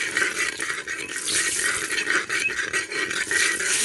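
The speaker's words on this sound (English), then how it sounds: "Now you want to stir this for a little while." Curry with jeera being stirred in a pot for curry goat, a continuous bright scraping and sizzling texture with soft rhythmic spoon strokes, close and alone.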